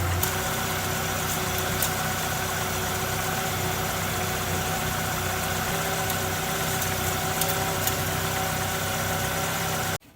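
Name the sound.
pickup truck engine idling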